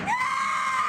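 A person screams at a haunted house attraction, a single sustained high shriek lasting about a second, loud and close with no other sounds.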